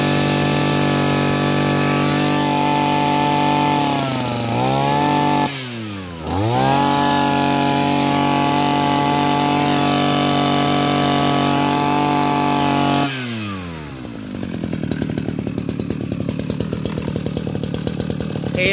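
Two Shindaiwa S35 chainsaws run in turn, each one loud and close. The engine revs high, drops to idle and dips several times, then climbs back up. Near the end it settles into a rougher, choppier idle.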